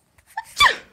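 A single sharp sneeze bursts out near the end after a couple of small breaths, close and fairly loud.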